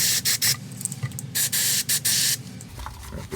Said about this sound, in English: And spray out the pots.